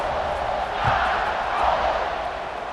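Stadium crowd in an American football video game roars and cheers during a kickoff, a steady dense wash of many voices swelling slightly twice, with no clear talk above it.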